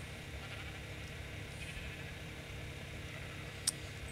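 Sheep bleating in the survival video game The Island, a faint, steady animal call sitting low in a quiet background with one brief click near the end.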